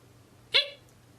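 A single short hiccup from a person, sharp and fairly close, standing out briefly against a quiet room.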